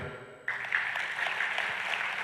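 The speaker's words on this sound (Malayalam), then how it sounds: "നല്ലൊരു ക്ലാപ്പ് ചെയ്തോട്ടെ." A burst of applause starts suddenly and continues steadily, many hands clapping together from a crowd.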